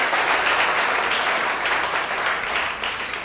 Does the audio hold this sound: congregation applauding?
yes